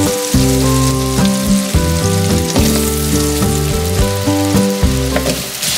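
Potatoes sizzling in a pan of melted butter and olive oil, a loud continuous crackle and hiss under steady tonal background music, close by with no voices.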